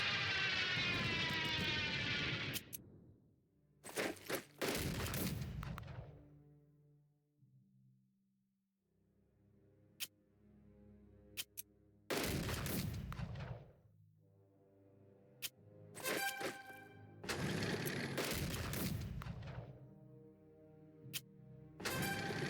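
Air support bombing in the strategy game Unity of Command 2: aircraft engine drones sweep past followed by several sharp explosive bursts, spaced irregularly with quieter gaps between, no talking.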